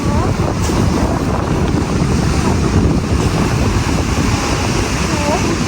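Rough ocean waves crash loudly on a beach while camping by the sea, making a continuous roaring surf mixed with heavy wind buffeting the microphone.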